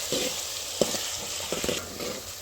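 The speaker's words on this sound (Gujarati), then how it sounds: "આ રીતે આપણે ડુંગળી બરાબર વ્યવસ્થિત રીતે પાકી જવા દઈશું" Onions frying in a pan for a pomfret fish recipe give a steady soft sizzle, broken by a few brief stirring scrapes, close and fairly quiet.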